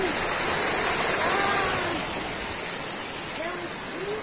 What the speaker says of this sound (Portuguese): Essa água aqui.